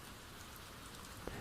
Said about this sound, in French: d'écouter la pluie tomber